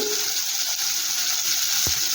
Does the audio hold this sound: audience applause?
no